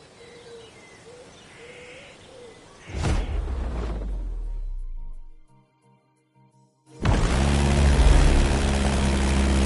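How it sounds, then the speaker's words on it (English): In the video game The Crew Motorfest, a 1930s Beechcraft Model 17 Staggerwing biplane idles softly with faint bird calls, then its engine surges, drops to near silence, and roars back loud and sustained for takeoff. "Your first plane is ready for takeoff. The Beechcraft Model 17 Staggerwing, a historical biplane from the 1930s."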